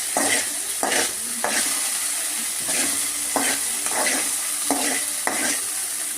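Tomatoes sizzle in a hot pan while being stirred in regular scraping strokes, roughly every half second. The frying is steady and close, with no talk.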